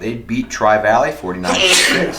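A single sneeze cuts loud and close through a sports podcast conversation, with someone speaking just before it.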